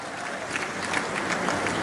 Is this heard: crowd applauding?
yes